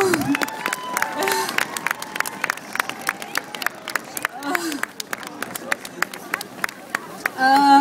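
A crowd at a Copenhagen demonstration for democracy in North Africa and the Middle East applauds with scattered, crisp hand claps and a murmur of voices, while someone talks over the clapping.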